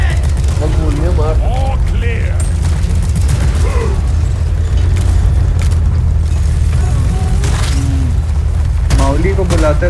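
Gunfire in the co-op shooter Deep Rock Galactic during a Drilldozer escort mission, with dense bursts and booms layered over constant game noise while several players talk throughout.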